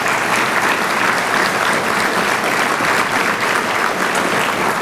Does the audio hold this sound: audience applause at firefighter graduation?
yes